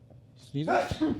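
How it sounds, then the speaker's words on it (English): A single person sneezes once, close and fairly loud, with a short sharp indrawn breath followed by a voiced burst, in a quiet indoor setting. "I don't think I've ever heard you sneeze in my life."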